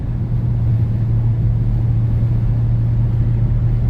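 A sheriff's car drives past outside a 2000 Audi A6 4.2 with the windows up, heard as a steady, muffled low engine and road rumble with a constant hum.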